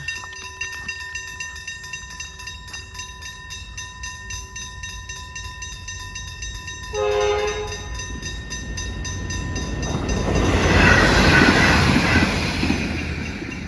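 A train rumbles past with a steady tonal hum, its rushing, rattling noise swelling louder toward the end as it moves by.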